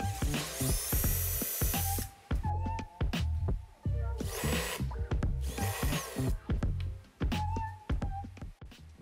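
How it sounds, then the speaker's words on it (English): Power drill boring pilot holes into a wood slab coffee table to mount the base, several bursts of high whining motor noise separated by short pauses and knocks, up close with no speech. "So I placed the base in the center of the table and drilled in some pilot holes."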